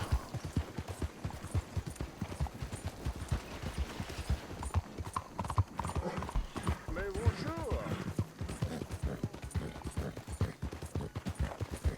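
Steady clip-clop of horse hooves from Red Dead Redemption 2, riding through the town of Valentine at a brisk, continuous rhythm, with someone talking over it and game sounds in the background.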